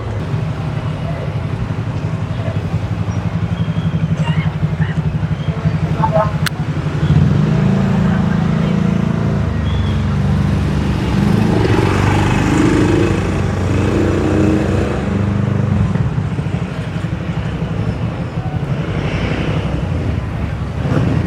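A tricycle engine idles and runs nearby with a steady low rumble, loud and continuous. Wind buffets the microphone and people talk over it.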